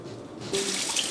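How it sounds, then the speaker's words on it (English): Cold tap water pours from a kitchen faucet to rinse Chinese sausage and preserved pork, a sudden steady splashing stream that starts after a faint lead-in and runs on close by. "give the Chinese sausage and the preserved pork a good rinse in cold water"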